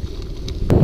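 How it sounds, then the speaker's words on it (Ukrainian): Strong wind gusting outdoors during a BMX bike ride, a steady low roar of buffeting across the microphone that swells louder toward the end. "А вітер сьогодні дуже сильний."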